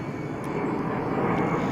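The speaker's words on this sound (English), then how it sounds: "pardon the plane." A fixed-wing airplane passes overhead outdoors, a steady broadband engine roar that stays loud and fairly constant, swelling slightly toward the end, with no one speaking.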